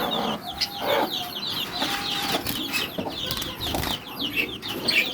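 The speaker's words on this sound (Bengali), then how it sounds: "সবগুলো যেগুলো মুরগি বাচ্চা যেগুলো দেখাইছিলাম আপনাদেরকে, সেটা খুব ভালো আছে" Chickens and chicks at a farm aviary at night cluck and chirp in an overlapping chorus, close by, with short calls repeating throughout and a faint flutter of wings.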